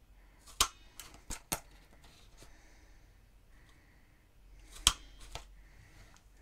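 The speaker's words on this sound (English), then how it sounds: "Now I'm going to punch some holes in the top here to tie my ribbon." A small hole punch cutting holes in the top of a paper gift bag, a few sharp close clicks in two brief clusters separated by quiet.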